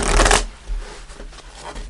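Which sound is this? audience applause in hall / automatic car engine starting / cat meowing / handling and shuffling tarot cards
handling and shuffling tarot cards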